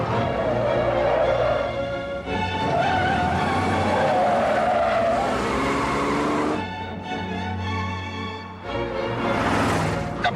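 A car driven fast along a road skids, its loud engine and squealing tires rising and falling across the stretch, with sustained roar broken by brief gaps and a final surge.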